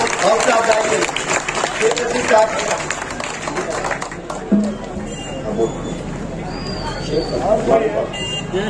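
An audience at a charity aid gathering in Malegaon breaks into applause, the dense clapping strongest at first and then thinning into scattered claps and crowd murmur, with voices heard in the background.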